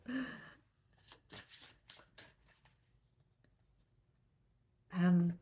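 Tarot cards shuffled by hand in a few quick, crisp riffling bursts, with a person talking just before and after.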